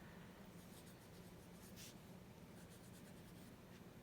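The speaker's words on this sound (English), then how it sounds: "see, already I'm thinking that this pen doesn't like this kind of paper" A pen scratches across paper in a new gratitude journal, a faint, continuous soft scraping with brief strokes, no talking.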